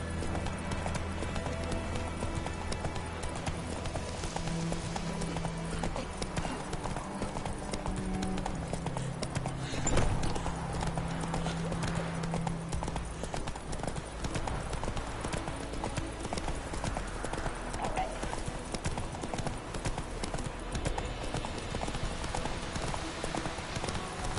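Horse hooves clip-clopping at a steady run in the video game Witcher 3, an even, continuous rhythm of hoofbeats with a soft game score underneath.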